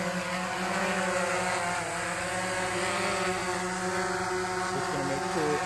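A DJI Phantom 3 Advanced drone's propellers whir in a steady, close buzzing drone as it lifts off.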